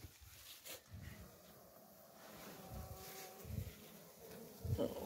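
Wild bees buzz around a hive being rescued and relocated, a faint wavering hum with closer swells as individual insects pass, mixed with soft handling noises and a distant voice.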